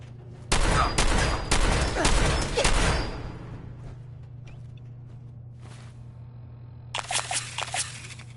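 Gunfire in Fallout 4: a dense, loud volley of rapid shots for a few seconds, then a lone distant shot and a final short burst.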